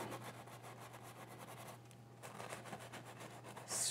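A paintbrush scrubs oil paint onto canvas in quiet, close rhythmic strokes that pause briefly midway before resuming, with no speech.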